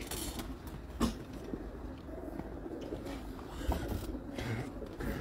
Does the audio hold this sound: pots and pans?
no